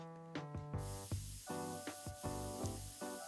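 A spray can effect in the game I'm not a Robot hisses in a series of short rhythmic bursts over steady background music, loud and close.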